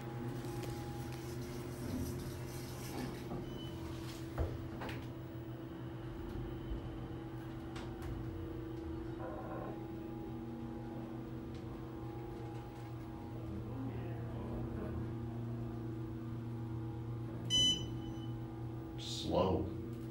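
An Otis Series 5 elevator at the Concordia Hip and Knee Institute in Winnipeg, Manitoba hums steadily through its ride, with a few faint clunks and a beep near the end, heard close under quiet surroundings.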